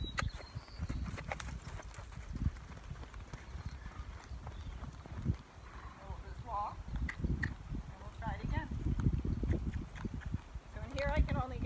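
A gaited horse cantering in an arena, its hoofbeats a soft, rhythmic thudding under a rider's voice talking throughout, fairly close but muted.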